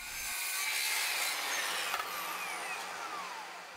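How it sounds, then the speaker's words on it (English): A wooden board is sawn through with a power saw in a workshop, one steady, loud, rasping cut lasting several seconds with a brief bump midway, no talking. "Then I can push the cut edge against that and make another cut."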